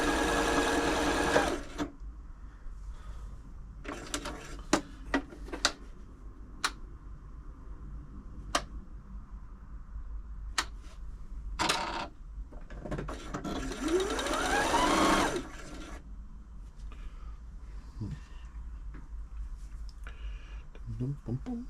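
Janome Atelier 6 sewing machine running after a service, a smooth steady motor hum with clicking taps and bursts of faster stitching, heard up close beside intermittent talk.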